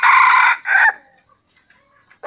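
A small mini decoy rooster crows close and loud in two quick bursts, the second shorter, followed by near silence.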